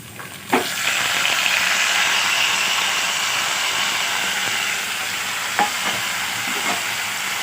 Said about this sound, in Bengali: পেঁয়াজটা লাল করে ভাজা হয়ে গেছে, এরপর এর মধ্যে দিয়ে দেবো মাছটা।